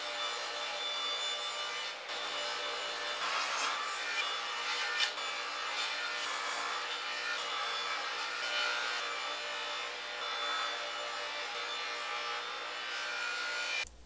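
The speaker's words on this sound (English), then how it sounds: "I'm going to use the fence to rip the thin strips." Table saw ripping thin strips of wood against the fence, a continuous bright cutting and rubbing noise holding steady for the whole stretch, close and without talk.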